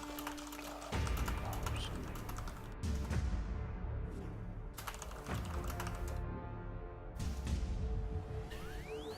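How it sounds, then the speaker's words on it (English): Fast typing on a computer keyboard, a continuous patter of close, crisp key clicks in quick bursts, with brief pauses between runs and no talking. "Sorry guys for typing,"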